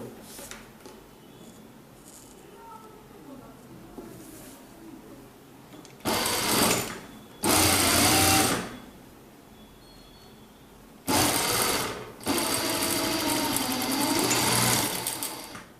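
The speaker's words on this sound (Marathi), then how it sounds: "अर्ध्या इंचाच्या अंतराने शिलाई मार्जिन घेऊन दोन्ही बाजूचे जे शिवून घेणार आहोत" A sewing machine stitching the side seams of a baby jumpsuit with a half-inch seam margin. It runs in four loud bursts of steady whirring, separated by quiet pauses.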